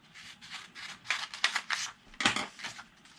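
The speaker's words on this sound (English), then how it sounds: "I'm going to cut this in half" Scissors snipping through paper for a kids' recycled-art superhero costume, a close, rapid run of crisp cutting strokes with a few louder snips, heard alone without talking.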